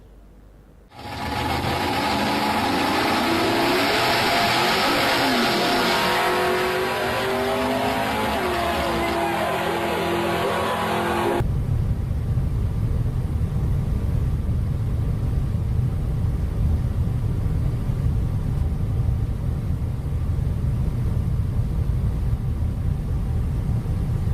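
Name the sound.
cars driving in video clips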